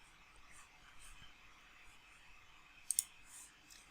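A couple of faint, quick mouse clicks on a close button, a tight double tick near the three-second mark over a quiet background hiss.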